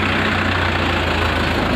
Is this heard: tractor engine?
yes